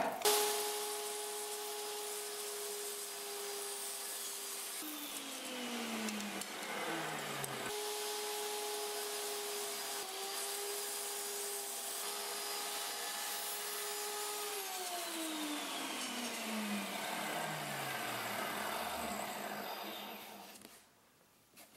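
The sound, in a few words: table saw cutting a 2x4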